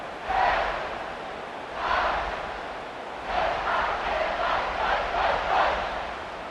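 A big stadium crowd in the College Football 26 video game roars in several swelling waves before kickoff, a broad wash of cheering that rises and falls for a few seconds at a time.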